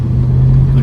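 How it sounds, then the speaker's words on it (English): The V8 of a Mercedes-Benz SEC at full throttle on a short straight, a loud, steady low engine roar heard up close for under a second. "you hear the V8 roar"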